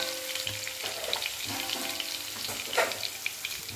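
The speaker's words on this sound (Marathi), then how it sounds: "तेल गरम झालेलं आहे, याच्यामध्ये अर्धा चमचा जिरे आणि मोहरी टाकून घ्यायची" Cumin and mustard seeds sizzle and crackle in hot oil in a pan, a steady frying hiss dotted with small pops and occasional louder spits, heard up close with no talking.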